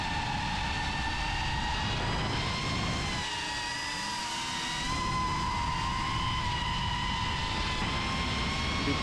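A 5-inch FPV racing drone flies nearby, its motors giving a steady, loud high-pitched whine with shifting tones throughout and a brief dip in the middle, over wind noise.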